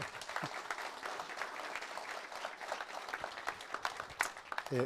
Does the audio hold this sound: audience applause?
yes